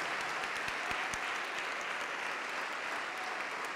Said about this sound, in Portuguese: Vem, vem, vamos aplaudir mais.